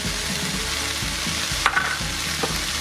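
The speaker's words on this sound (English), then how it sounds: "we add mushrooms that we had cut up earlier" Cut-up mushrooms frying in a hot pan with other vegetables, a steady close sizzle with a few light clinks of a utensil stirring, no talking.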